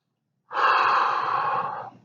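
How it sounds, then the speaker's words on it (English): One long, deep breath drawn in and let out through the mouth, a steady airy rush lasting over a second, close and loud with no talking. "So take a deep cleansing breath"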